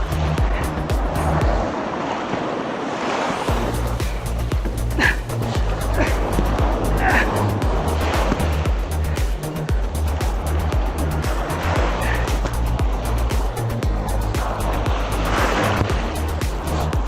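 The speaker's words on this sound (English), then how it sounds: "I am going through some garbage waves." Offshore ocean waves surge and rush continuously around a Vibe Sea Ghost 130 kayak, loud and close, with strong wind buffeting throughout.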